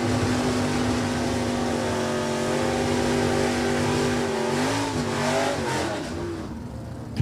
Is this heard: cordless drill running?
no